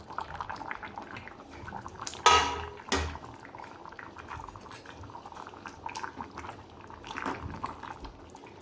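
Chopped tomatoes tumble into a pot of simmering eggplant curry with a brief splashy thud and a clatter, over steady bubbling, and faint sounds of utensils follow.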